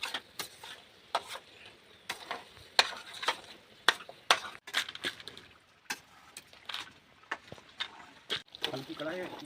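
Repeated scraping and stirring in a light kadhai while something dry-roasts, sharp irregular clatters of a spoon against the metal pan with a soft sizzle beneath, close and fairly loud, with people talking in the background.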